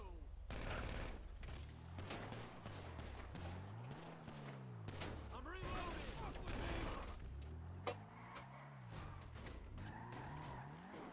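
Gunfire in the open-world game GTA Online: rapid bursts of shots mixed with car engines and tire skids, busy and continuous, heard under game sound and some indistinct talk.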